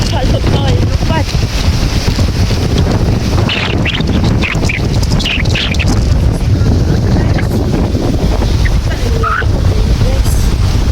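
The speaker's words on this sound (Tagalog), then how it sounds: "Pakita ko lang sa inyo gaano kalakas ng hangin" Strong wind buffets the microphone in a constant loud roar at a campsite in Australia, with voices talking faintly underneath.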